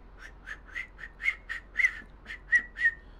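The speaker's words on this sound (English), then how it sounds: "Just sitting over here, sitting on my steps whistling to myself." A short tune whistled in a farming roleplay video game, a string of about ten clear, evenly spaced whistled notes, some with small trills, alone over faint background hiss.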